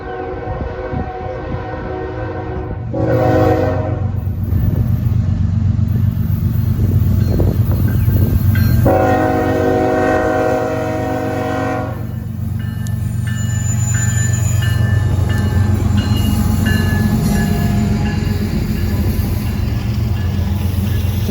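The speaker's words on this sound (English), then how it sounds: "When this train rounded the corner and I noticed the double stack containers, I knew this was an odd train" A W&A freight train hauling double stack containers rolls steadily past a grade crossing, its loud, continuous rumble and wheel noise joined by long, sustained horn blasts and ringing crossing bells.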